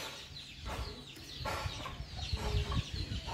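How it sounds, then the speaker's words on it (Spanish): Several broody hens cluck and murmur close by on a small farm, with scattered rustling and scratching sounds. "Aquí y acá les tenemos esas gallinas que están culecas ahorita porque están calentando huevos"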